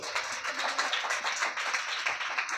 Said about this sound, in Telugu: కొట్టుకట్టి చప్పట్లు.